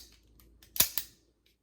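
A CZ75B Bravo 9mm pistol's single-side safety lever pushed down: two crisp, close metallic clicks in quick succession, then quiet.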